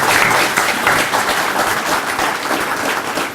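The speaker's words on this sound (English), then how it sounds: "round of applause" Sustained, loud audience applause fills a homecoming award ceremony for Walker Award winners, dense clapping holding steady throughout with no voices over it.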